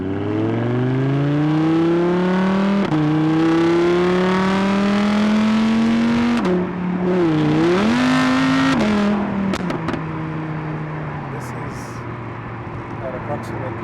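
An Audi R8 in dynamic mode revs hard through the gears, its engine note climbing in long sweeps with brief dips at each shift. The exhaust stays loud and close before settling to a steadier cruising drone.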